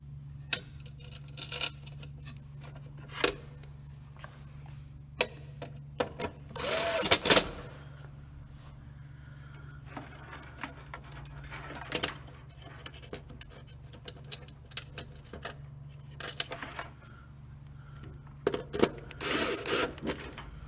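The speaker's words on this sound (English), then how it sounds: "screw in the new circuit board." Screwdriver driving screws into a new circuit board on an electronics tray, faint close clicks and ratcheting turns in scattered short bursts over a quiet background.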